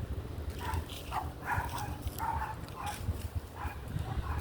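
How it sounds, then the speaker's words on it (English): A dog behind a fence in a neighbourhood at night barks again and again. The muffled, moderately distant barks sound over a steady outdoor background during a walk. "as you can probably hear, the dog's behind the fence"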